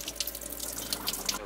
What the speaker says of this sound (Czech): Voda z dřezu nám teče do odpadního barelu, který máme pod dřezem schovaný.